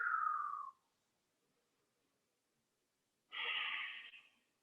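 Two slow, deep breaths drawn during a yoga session, one exhale fading out at the start and a fuller breath rising after a long silence, both close and soft with no talking.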